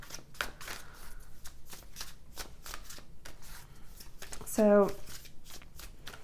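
Tarot cards are shuffled with rapid close riffling clicks and flicks throughout, plus a brief sharper card snap near the end, while someone speaks briefly.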